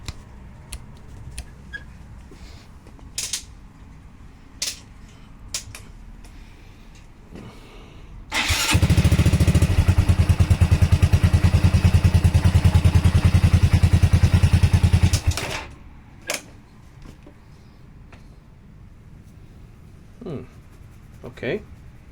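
A Honda MSX 125 Grom motorcycle engine cranks and fires up, running steadily and loud for several seconds before cutting off, with clicks and handling noises before and after.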